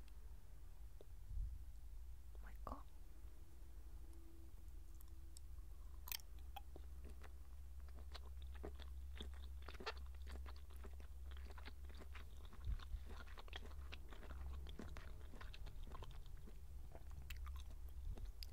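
Spicy soy-flavored konjac balls being chewed close to the mic, with soft rubbery squelches and occasional crisp bites repeating irregularly against a quiet background, with no talking.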